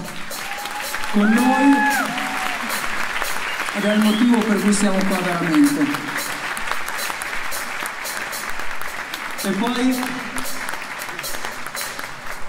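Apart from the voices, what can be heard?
audience applause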